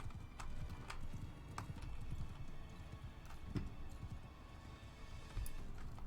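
Hooves of a horse in Mount and Blade: Bannerlord clop steadily at a run, quiet and continuous, with occasional sharper impacts and a brief whinny-like sound amid game ambience.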